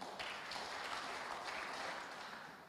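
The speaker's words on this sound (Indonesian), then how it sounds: "Berikan tepuk tangan untuk Tuhan." A church congregation claps together in a sustained, dense wash of applause that stays loud and steady for a few seconds before easing slightly at the end.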